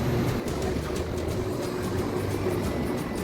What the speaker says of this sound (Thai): รถไฟสวนกันนี่ครอบรางแบบนี้เลย